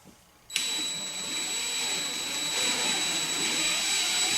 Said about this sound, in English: we're going to go ahead and drill this hole.